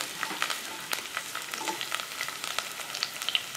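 Garlic sizzles steadily in sesame oil in a pan while a Kerala-style beetroot pickle is being made, with soft, crackly frying and occasional small pops. No one is speaking.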